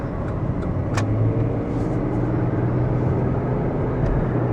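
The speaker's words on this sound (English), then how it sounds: "There's a truck." A truck drives past on a street in Fairbanks, making a continuous loud engine rumble and road noise that holds steady throughout the clip, close to the listener and without any speech.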